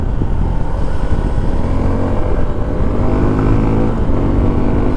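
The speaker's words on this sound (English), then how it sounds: "The exhaust note is really sporty and engaging." A Suzuki V-Strom SX 250 motorcycle engine rumbles loudly and continuously up close, with a deep, throaty exhaust note holding steady.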